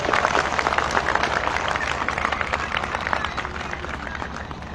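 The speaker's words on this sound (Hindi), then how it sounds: "हम सभी मां शक्ति के लिए जोरदार ताली और अभिनंदन चाहते हैं" An audience at a political rally claps loudly in support of women's power, a dense spatter of many hands that holds steady and then eases off slightly toward the end.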